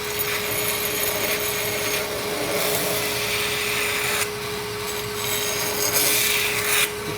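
Close, continuous rasping as a file works burrs off the edges of a Shirogami steel blade, running several seconds with two brief pauses and no talking.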